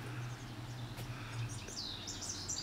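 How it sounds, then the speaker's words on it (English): Birds singing in the garden of a Beverly Hills Mediterranean villa, with palm trees and flowers around, give scattered high chirps and whistled phrases over a steady low outdoor hum, fairly distant and moderately quiet. "You hear wonderful birds, can you hear them? The birds are really singing today."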